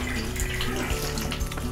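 Water sprays and hisses from the sides of a worn, leaking old shower head, a steady loud rush with a low pipe hum underneath and a few sputtering bursts.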